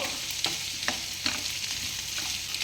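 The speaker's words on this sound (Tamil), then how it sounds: "இதையும் சேர்த்து நல்லா வதக்குங்க" Potatoes and green peas sautéed in a pan, a continuous hissing fry with a few soft spatula scrapes spaced through it, close and moderate in level, no talking.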